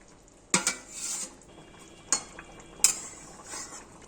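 Eggplant pieces cooking in a pan with potato and egg curry: three sharp utensil clinks against the pan, each followed by a brief soft scrape, over a faint low sizzle.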